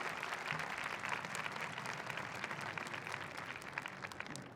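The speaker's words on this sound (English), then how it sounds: "Let's give a nice round of applause to Dr. Pat Kenny, our dean and leader." Steady, dense applause from a large audience at a college convocation, continuous clapping at an even level throughout with no voices standing out.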